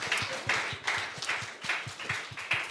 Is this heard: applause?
yes